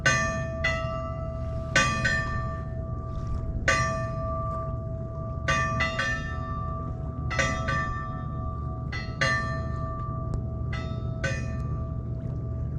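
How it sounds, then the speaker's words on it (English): Metallic clanging strikes from a three-gong buoy of different pitches ring out at irregular intervals, each leaving a sustained humming tone, over a low rumble of wind and harbor water off Mount Desert Island, Maine. "the difference between gong buoys and bell buoys is bell buoys have an actual bell"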